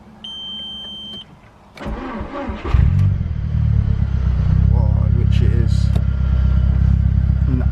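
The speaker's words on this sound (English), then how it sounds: "this startup should be a bit more smoother" A beep sounds, then a GTI turbo car engine, just fitted with a replacement gearbox and cam sensor, cranks briefly and catches, settling into a loud, steady idle close by, with a voice briefly over it.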